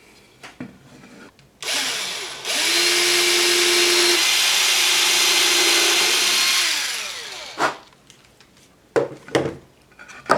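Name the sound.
power drill boring pilot holes in wood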